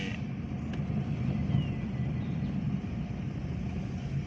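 A milk van rolls along a rural road near Thalavadi, heard as a steady low engine rumble and road noise at moderate distance, continuous and without talk.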